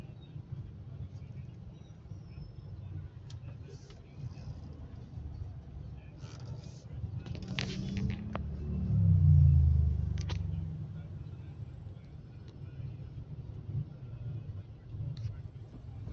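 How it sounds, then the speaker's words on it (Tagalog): Heavy back-to-school morning road traffic forms a steady low engine rumble, with one vehicle passing closer and louder midway before the drone settles again. "so back to school na mga ka-drivers, kaya medyo traffic na ang daan natin"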